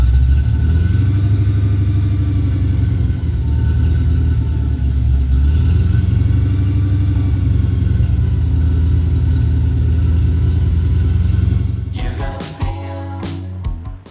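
A 1973 Dodge Dart with a naturally aspirated 318 V8, supercharger blower and stronger cam rumbles loudly at a steady, lumpy idle for about twelve seconds, then the engine sound drops away and a few sharp clatters follow.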